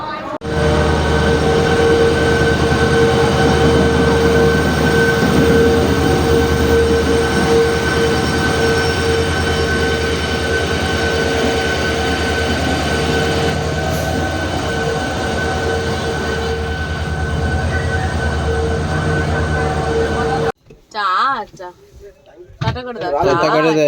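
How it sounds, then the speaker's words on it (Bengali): The Howrah–Bangalore SMVT Duranto Express runs along the rails with a loud, steady rumble and rolling wheel noise from inside the train, which cuts off abruptly into a quieter, shifting sound near the end. "জানলা দিয়ে বাইরে দেখা ট্রেনের কুঝিঝিক শোনা"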